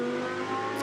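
A GT2 race car powers up through Raidillon at Spa, its engine note sustained and rising in a brief, fairly distant burst of acceleration.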